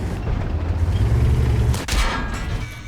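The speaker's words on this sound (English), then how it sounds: "Takes another shot." A tank cannon firing in World of Tanks heavy-tank battle with an AMX 50B and IS-7: a single loud, sharp blast near the middle over a constant rumbling engine and battle din.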